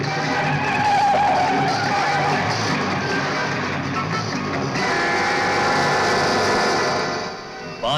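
A taxi in a 1980 Bollywood action film turns sharply with loud, sustained tire squeal and engine roar, the skid ringing continuously for several seconds in the foreground.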